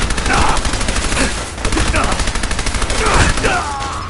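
Fallout 4 gunfire during a Railroad questline fight at Bunker Hill, loud rapid bursts of shots packed close together in a short frantic exchange, with some shouting in the mix.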